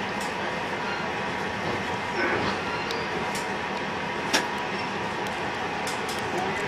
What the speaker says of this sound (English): Another New Haven Line train. Last car 8709. That's an M2 and that's deadheading.